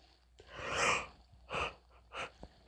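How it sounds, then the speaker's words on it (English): A person gives a long, breathy yawn late at night while working on small craft pieces, followed by two shorter breathy exhalations, close and quiet with no talking. "just talking about staying up really late got me yawning"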